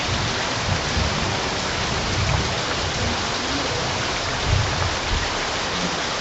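Heavy rain pours steadily at an outdoor talk, a dense continuous wash of drops drumming on surfaces with no pauses, loud and close.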